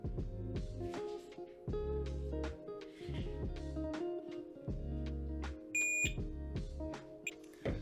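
A multimeter set to continuity gives a run of electronic beeps while probing a broken Xbox 360 controller trigger, with steady tones switching on and off in a repeating pattern at close range.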